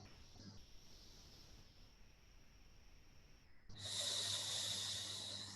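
Slow, deep breaths during a tai chi qigong exercise, a faint soft inhale or exhale at first, then a louder, close, airy breath rushing in toward the end over quiet background.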